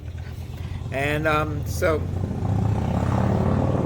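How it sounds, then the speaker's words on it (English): A motorcycle engine rumbles past, growing louder toward the end, while a person speaks briefly over it. "oh, it is a motorcycle actually."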